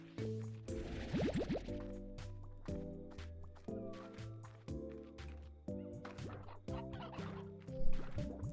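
Chickens in the game Slime Rancher cluck in short bursts over a steady stepped musical backdrop, with a few light watery drips mixed in.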